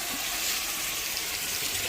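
Water being poured into a pot of rice set on a wood-fired stove for cooking, a steady continuous rushing gush with no voices, lasting the whole stretch.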